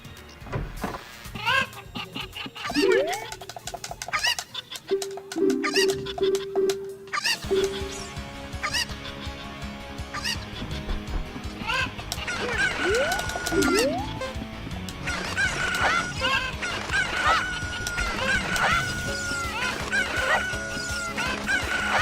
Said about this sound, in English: I grabbed all these chickens